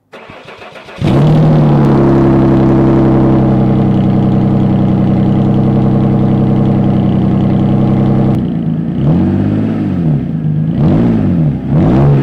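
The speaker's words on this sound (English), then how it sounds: "That's what the X Type sounds like with a muffler delete" A Jaguar X-Type engine with a homemade muffler delete cranks and catches, then idles loud and throaty with a deep rumble, dips briefly and gives a few blips of revving.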